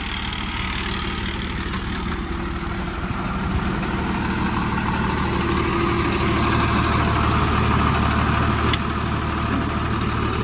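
A new Scout TD-1304c tractor's heavy diesel engine idles steadily and loudly, a low continuous rumble with a constant hum throughout.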